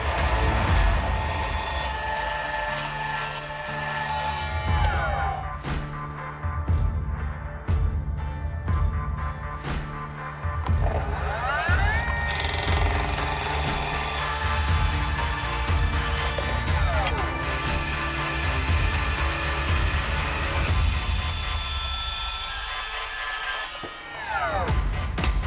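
Power saw cutting 10 mm steel stock in a workshop while assembling a heavy-duty shelving rack, a steady loud grinding hum with shifting whining tones running continuously throughout, no talk over it.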